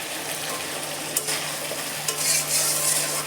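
Mustard spice paste being stir-fried for hilsa fish curry, a steady close sizzle with scraping strokes of a spoon through the thick paste in the pan.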